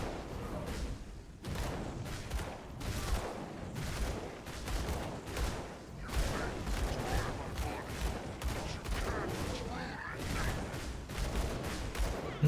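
Rapid, dense gunfire from a character shooting a boss in Grim Dawn, a dark action RPG, with continuous bursts of shots and impact booms throughout and occasional talk faintly underneath.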